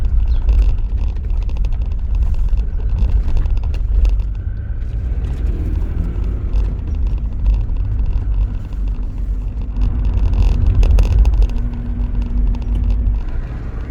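A Rover 25 car driving along with a steady low engine rumble and road noise, continuous and fairly loud, with slight changes in engine pitch.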